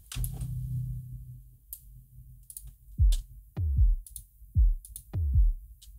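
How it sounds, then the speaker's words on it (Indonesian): Deep, booming sub kick drum hits play in a sparse pattern alongside crisp hi-hat ticks, a few beats repeating at a steady tempo. "Kita dengerin dulu suara drumnya seperti gimana."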